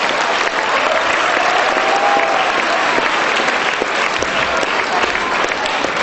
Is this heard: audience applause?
yes